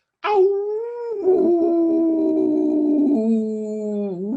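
A voice imitates a dog howling, a long drawn-out wavering howl rising and sliding in pitch, loud and close, lasting several seconds.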